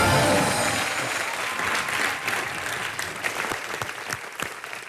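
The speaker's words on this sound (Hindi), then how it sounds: "एक बार जोरदार तालियां।" A studio audience on a comedy talk show in Dubai bursts into loud applause for a guest, starting strong and thinning into separate distinct claps near the end.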